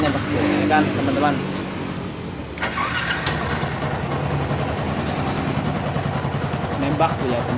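A Yamaha MX motorcycle with an ignition fault idles roughly, giving off a few sharp misfire pops over its running engine, with voices talking nearby.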